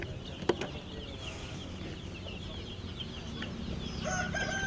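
Country chickens cluck and call in a rural Tamil Nadu farmyard, a busy flock heard at moderate distance with faint outdoor ambience and occasional sharper calls.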